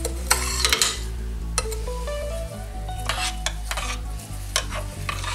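Loose leaf tea being stirred in a pot of water, a spoon scraping and clinking against the pot in a busy run at first, then lighter occasional taps over a steady low hum.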